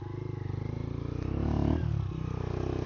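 Honda XR150L motorcycle engine pulling up a small trail hill climb, a close, steady single-cylinder thump that swells briefly as the throttle opens, then settles back to a loping rhythm.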